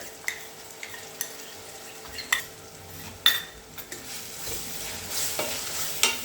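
Coconut paste sautéing in a pan for misal, with a soft continuous sizzle under repeated sharp clinks and scrapes of a spatula stirring against the metal, close and moderately loud, no voices.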